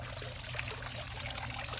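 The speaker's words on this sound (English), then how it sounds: "And isn't that just relaxing to hear? Nice flowing water." Garden water feature giving a steady, continuous wash of flowing, trickling water, close and even in level throughout with no voices.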